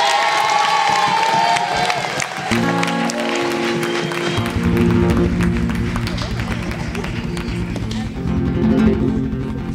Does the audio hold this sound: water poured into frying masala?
no